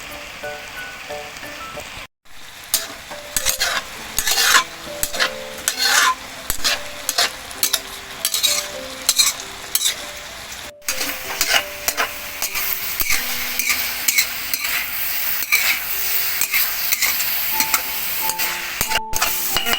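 Kua kling, a dry southern Thai curry, being dry-roasted in a pan, with a spatula scraping and stirring in a busy, irregular clatter over a steady background hiss. It stays close and fairly loud throughout, with no talking.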